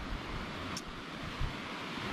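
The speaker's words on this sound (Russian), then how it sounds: "Там, походу, такие волны. Там идет реальный шторм." Rough stormy sea surf roars in a continuous broadband wash, buffeted by wind noise on the microphone.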